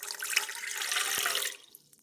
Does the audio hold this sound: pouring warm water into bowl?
yes